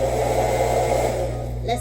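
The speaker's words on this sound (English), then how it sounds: "I decided to also add in a blow dryer, because a blow dryer blows air just like we do" A blow dryer blows air in a continuous, loud, steady whir with a low motor hum, running alone without pause.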